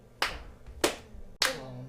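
Three sharp, separate hand claps ring out in a quiet room during a string quartet rehearsal, each followed by a brief decay, with a faint sung tone after the last.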